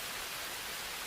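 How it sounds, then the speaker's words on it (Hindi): Steady rain falls in a dense, even hiss with no breaks, filling a brief moment without voices. "लगता है आज बारिश नहीं रुकने वाली।"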